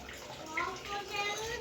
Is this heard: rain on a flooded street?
no